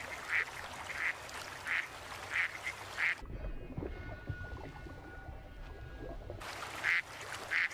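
Ducks on water quack in short, repeated bursts, then fall quiet during a muffled stretch of lapping, splashing water before the quacking resumes near the end.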